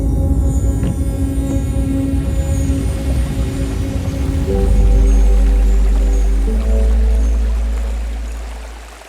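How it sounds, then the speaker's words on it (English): Water splashing and trickling steadily through mud channels in a rural setting, a continuous wet rushing that swells louder midway and stays close, with no voices. "only the constant, calming sound of water splashing through the mud channels"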